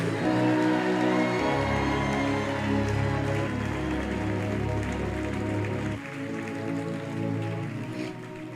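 A church congregation applauding and cheering over sustained organ-like music, a dense wash of clapping spread across the whole stretch with no clear talk.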